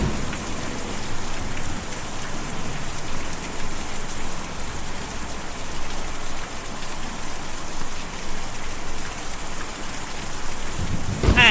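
Steady rain falls in the video game Kentucky Route Zero, a dense, even hiss of drops on surfaces that continues unbroken, with a faint low rumble beneath it.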